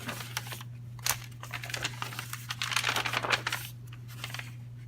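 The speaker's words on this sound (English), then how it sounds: "I love the sound of coffee dyed paper." Soft crinkling and rustling of coffee-dyed paper sheets being handled up close, quiet irregular crackles that swell briefly in the middle.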